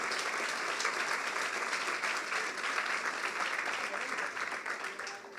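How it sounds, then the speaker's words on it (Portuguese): Church congregation claps in a steady, dense round of applause during a sermon, heard from a moderate distance for about five seconds before trailing off slightly at the end. "Pode aplaudir mesmo."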